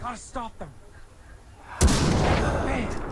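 Loud gunfire burst in Far Cry 3 erupts after a short stretch of voice, then rolls on as a dense, sustained barrage of shots and blasts to the end.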